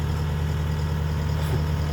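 A Sumitomo SH130-6 excavator idles steadily through its large exhaust pipe, a continuous close low rumble with no breaks, heard alone.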